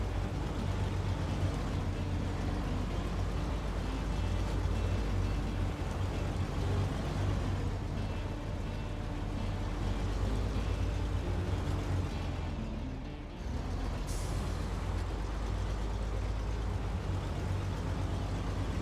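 A truck in the video game SnowRunner drives slowly and carefully, giving a steady low engine drone and rumble that runs on throughout with a brief dip near the end.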